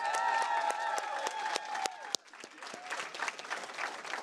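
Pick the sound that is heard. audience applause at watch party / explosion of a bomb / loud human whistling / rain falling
audience applause at watch party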